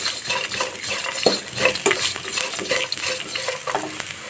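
A spoon stirs an onion tempering for lemon rice in a pan, with continuous frying sizzle and repeated scraping and clinks of metal against the pan, no voices.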